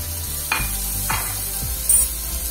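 Tomato fries in a pan for a bone broth with scraped plantain, a steady sizzle broken by three quick scraping stirs and a small clink near the end.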